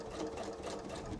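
A sewing machine stitching a leather-style wallet runs continuously at close range, a steady rapid mechanical whir with a fine rhythmic needle chatter and no talk.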